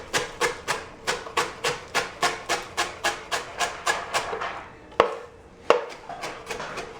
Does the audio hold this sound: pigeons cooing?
no